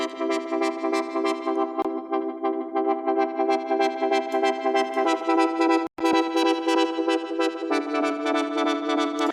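A Serum synth patch played in FL Studio with its first filter LFO raised for more high presence: sustained, bright, buzzy chords ringing steadily throughout, briefly cutting out near the middle.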